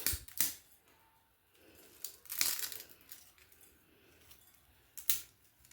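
Sharp crisp cracks of crunchy murukku snapping, a few separate bursts spaced a second or two apart, close with quiet gaps between.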